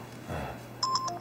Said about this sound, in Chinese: 我接个电话啊。